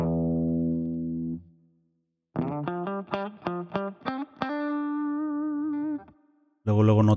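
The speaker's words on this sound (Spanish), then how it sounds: "Luego notas el compresor en acción ahí en el ataque de los sonidos." A clean electric guitar plays through a compressor pedal into a free virtual amp modeled on a Soldano SLO 100 and Laney TF300. A held chord gives way to a run of evenly attacked plucked notes, then a sustained note and a final strum.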